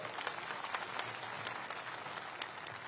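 An audience at a political rally applauds to welcome a leader: dense, steady clapping from many hands at a distance, continuing evenly without pause and with no voices over it.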